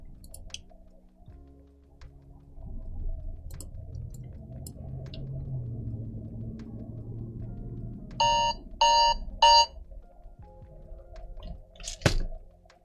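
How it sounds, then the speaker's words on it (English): An alarm clock sounds three short, loud bursts of electronic beeping in quick succession over a quiet, muffled room background. "That was my alarm."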